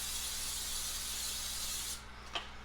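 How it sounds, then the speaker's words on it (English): Cooking spray hisses steadily into the bottom of a 9 by 13 baking pan for about two seconds, close and clear, then cuts off, followed by a brief light tap. "let's spray some cooking spray in the bottom of a 9 by"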